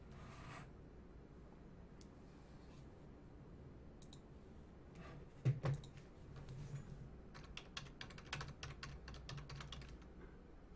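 A gaming computer keyboard with blank keys is typed on, bursts of quick light clicks that start sparse and grow into a denser run of keystrokes, close and fairly quiet.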